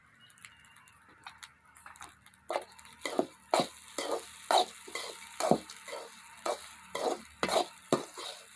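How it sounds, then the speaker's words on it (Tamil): Curry leaf rice being stirred in a pan, a spoon scraping and turning the rice in a steady series of close, crisp strokes, roughly one or two per second, with no talking. "சாப்பாடை போட்டு இந்த மாதிரி கிளறிக்கணும்"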